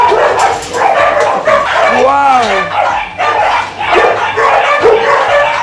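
Several dogs bark and yip nearby in bursts, mixed with excited talking and a loud exclamation.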